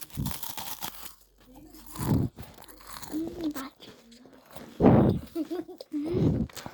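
Crunchy food is bitten and chewed close up, with several sharp crunching bursts between pauses, while a voice murmurs and hums appreciatively in between.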